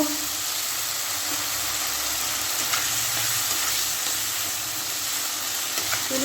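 Ginger, garlic and tomato masala paste stir-fried in a pan, giving a steady close sizzle and hiss with faint scraping of stirring throughout.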